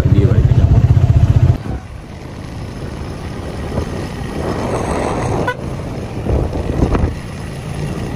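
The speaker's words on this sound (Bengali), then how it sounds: "বাট আমরা মোটরসাইকেলে যাচ্ছি" Motorcycle riding along a village road to a wedding, engine drone steady and close with heavy wind rush over the microphone, a louder rumbling stretch at the start.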